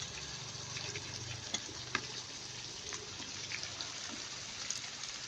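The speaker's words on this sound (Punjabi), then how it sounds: "ਬੈਂਗਣ ਜਿਹੜੇ ਮਸਾਲੇ ਨਾਲ ਭਰ ਕੇ ਰੱਖੇ ਨੇ ਸੁੱਕੇ ਮਸਾਲੇ ਨਾਲ ਇਹਨਾਂ ਨੂੰ ਆਪਾਂ ਛੱਡ ਦਿੰਦੇ ਆ ਜੀ ਕੜਾਈ ਦੇ ਵਿੱਚ" Brinjals stuffed with dry spice masala frying in a kadai with very little oil over a low flame: a faint, steady sizzle with occasional soft pops and light stirring clicks.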